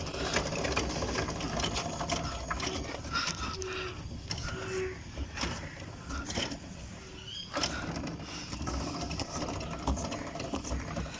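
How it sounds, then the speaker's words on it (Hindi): A continuous whirring, ratcheting mechanical noise from a rickshaw wheel spun by hand, steady and fairly close, with rattling from underneath and no talking. "टायर घुमा रहा हूँ, इसके नीचे से आवाज़ भी आ रही है"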